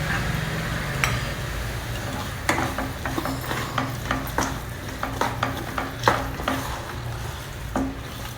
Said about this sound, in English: Finally, I am just adding another 1 or 2 tablespoons of ghee.